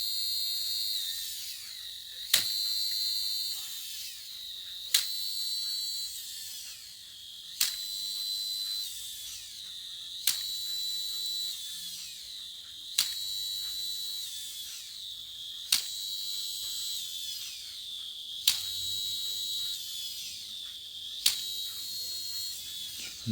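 A Little Live Pets Lil' Frog toy, opened up in a teardown, runs its spring mechanism with a steady high whirring buzz, broken by sharp regular clicks about every two and a half seconds; close and fairly quiet, with no talking.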